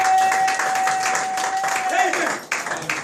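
A church congregation claps and cheers in praise of the Lord, loud dense applause filling the room with a sustained tone running through it, then thinning out near the end.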